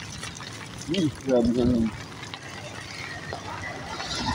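Steady rain patters and splashes throughout, with a person briefly speaking over it early on, then the wet hiss continuing alone.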